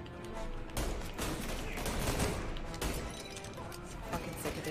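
Dense gunfire from the video game Mafia: Definitive Edition, a loud, continuous barrage of overlapping shots and crashing impacts that fills the whole stretch with little letup.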